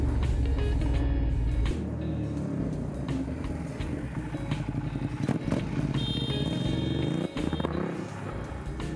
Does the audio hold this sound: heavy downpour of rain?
no